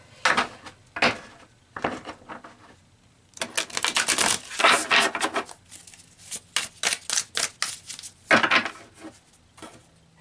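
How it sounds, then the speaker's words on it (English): A deck of tarot cards is shuffled by hand in a quiet room, giving bursts of crisp papery riffling and flicking that come in several separate close, brisk runs with short pauses between them. "I feel like a shuffle is in order."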